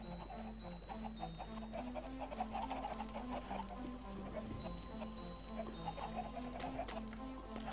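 Chickens in the video game Minecraft cluck softly in quick, scattered bursts, heard faintly beneath steady, melodic background game music, with no speech.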